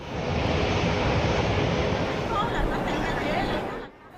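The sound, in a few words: C919 jet airplane taking off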